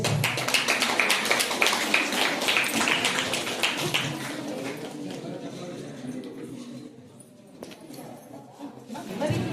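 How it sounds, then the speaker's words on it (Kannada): An audience at a women's day prize-giving celebration at a government college claps in a dense, loud burst that thins out after a few seconds, with a voice speaking over the fading applause. "ಚಪ್ಪಾಳೆ"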